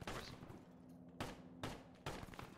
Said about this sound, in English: that's an enemy shooting